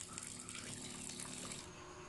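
Water pours steadily into a cooking pot of corn, a continuous gushing splash at moderate level with no talk.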